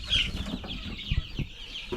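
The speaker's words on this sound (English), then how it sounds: "I'm going to check the chickens." Chickens cluck in short irregular bursts at moderate distance, with some rustling and a brief higher squawk near the start, and no talking.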